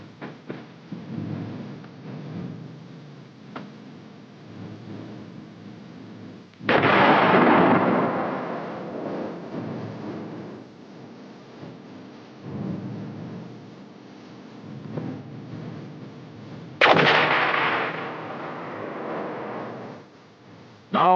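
Two heavy booms from 175 mm artillery guns being tested at Aberdeen, each a loud blast with a long rumbling tail, spaced about ten seconds apart over low background noise.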